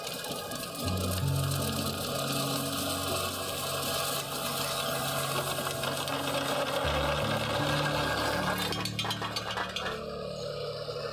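Machinery fabricating roof bolt bearing plates in a coal mine workshop at Nandira Colliery, a steady loud mechanical drone with rapid repetitive knocking and humming tones that shift pitch around the seven-second mark, ending in a clattering burst.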